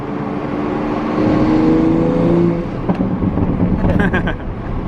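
A tuned Toyota Supra MK5 accelerates hard, its engine note building steadily and loud from close by inside the car, with a brief shift-like break before pulling again; people talk over it.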